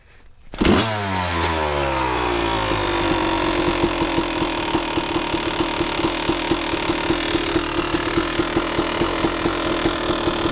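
A Yamaha YZ250 two-stroke dirt bike engine catches after a sharp start, then settles into a loud, steady, close buzzing with a regular crackle of small pops and no clear rise in revs.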